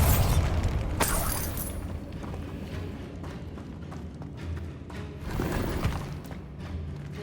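Bombarda blasting spells going off in Hogwarts Legacy: a few booming bursts, the first near the start and another later, each with a rumbling tail over a low, busy game background.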